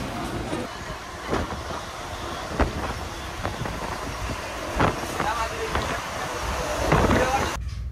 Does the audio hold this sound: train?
yes